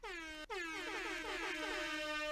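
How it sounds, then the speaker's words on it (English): An air horn sound effect blares loud and alone, a brief first blast cut off by a short gap and then a long sustained honk. "Too many air horns to count"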